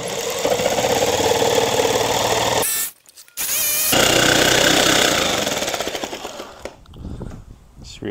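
A loud power saw whines and grinds through a board nearby, cutting out briefly, then running again before winding down.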